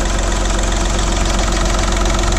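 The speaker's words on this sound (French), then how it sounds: "il n'y a plus qu'à attendre que le moteur monte en température pour que ça purge" A VW Polo IV 1.4 TDI 80 hp diesel engine idles while warming up after a timing belt job, a loud, steady, close rumble with a rapid knocking clatter throughout and no talking.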